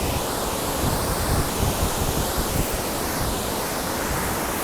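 A river rushes steadily nearby along the Appalachian Trail near Moreland Gap, a dense, continuous roar of flowing water blended with some wind buffeting the microphone, with no voices.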